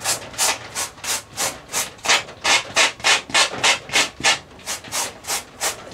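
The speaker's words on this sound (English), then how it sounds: "you just gently sand them down" Raised spots on an RC airliner model build are gently sanded down, giving close, steady back-and-forth rubbing strokes at an even rhythm.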